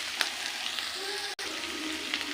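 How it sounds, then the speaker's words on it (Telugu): Keema with coriander powder, chilli powder and garam masala sizzles in a pan over a low flame, a steady close frying hiss with a brief cutout midway and no talk. "సో ఇవన్నీ మాడిపోకుండా లో ఫ్లేమ్లో కుక్ చేసుకోవాలి"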